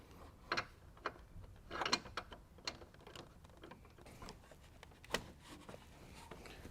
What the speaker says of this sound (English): We're just going to loosen it about 7 full turns